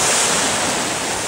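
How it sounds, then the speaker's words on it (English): Ocean surf breaks at Fort De Soto beach as a loud, close, continuous wash of waves, with wind buffeting the microphone and no voices. "Look at those waves."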